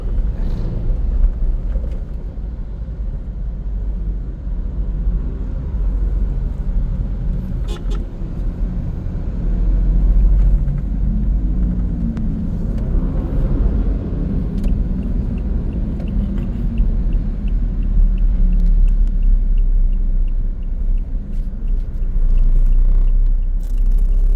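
A truck passes on a road, heard from inside a vehicle as a steady low engine and road rumble that swells around the middle, with a brief horn-like toot, and no talk over it.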